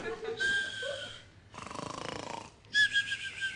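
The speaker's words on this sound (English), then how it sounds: "I can hear a noise like snoring, too." Snoring from a man hidden inside a metal filing cabinet in a dreary records room, heard as two long rasping breaths with a rhythmic rattle, set between brief murmured voices in a radio drama scene.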